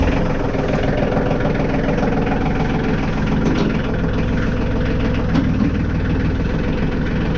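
A big farm tractor idles with a steady, loud, low rumble that holds an even throb throughout, close by and without speech.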